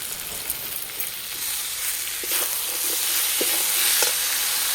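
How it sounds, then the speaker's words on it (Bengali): Mixed vegetables are sautéed with ground spice paste and a little turmeric in a pan, a constant near sizzle with a few soft spatula scrapes and stirs toward the end. "মশলার সঙ্গে সবজি ভালো করে কষিয়ে নিয়েছি"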